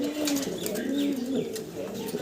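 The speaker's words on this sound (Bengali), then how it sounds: "লেজ পাখা নামায় দিয়ে ডাকতেছে নরে" A male pigeon coos with its tail and wings lowered, giving a soft, rolling series of low coos close by, with faint background noise.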